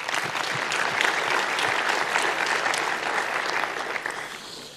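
An audience at a 2019 awards ceremony applauds, a full, even roar of many hands clapping together. The clapping holds steady for several seconds, with no talking over it.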